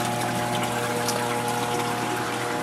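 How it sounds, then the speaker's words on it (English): An automatic water change system tops up a clown loach aquarium, giving a steady, close trickle and hum of running water with a faint pump drone under it and no voices. "I have an automatic water change system going right now,"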